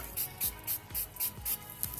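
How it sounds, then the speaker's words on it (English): A spray bottle of bleach squirts onto a fabric T-shirt about seven times in a steady rhythm, each a short, close, hissy burst separated by brief pauses. "and just spray it right over the design."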